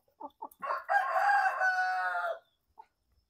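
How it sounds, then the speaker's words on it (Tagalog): A rooster crows once, loud and near, after a few short clucks, then a single faint cluck follows before quiet. "Sugay nila mangaon nga mga manok ba."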